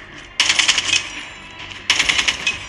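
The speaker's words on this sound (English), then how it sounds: "Oh, it's shooting automatically." Automatic gunfire from the Call of Duty video game, two bursts of rapid crackling shots separated by a short pause, loud and close with no talk over them.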